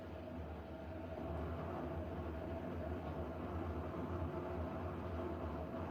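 A Siemens train runs with a steady, even drone and a faint sustained whine above it, constant and moderately close without clear breaks.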